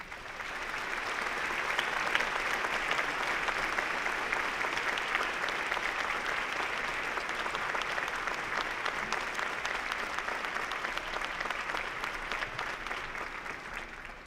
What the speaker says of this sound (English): I would be grateful to you, all of you, if you would offer him a round of applause